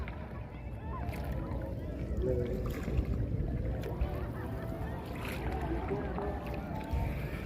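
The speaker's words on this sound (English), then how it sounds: "She's been paddling on one side and the kayak refuses to turn to the left." A kayak with three fins underneath being paddled on open water, with steady water wash and splashing against a continuous outdoor background, geese honking now and then.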